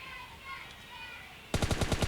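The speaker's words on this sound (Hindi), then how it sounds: "मैं इसके पीठ में गोलियां मारता हूँ" Quiet ambient game noise in PUBG Lite, then a sudden burst of rapid automatic gunfire, several loud shots in quick succession near the end.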